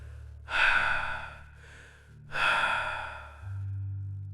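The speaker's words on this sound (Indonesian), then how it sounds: "Seperti tarikan napas panjang tepat di belakang mereka" Two long, heavy breaths, each a loud breathy rush lasting about a second, close up over a low steady hum.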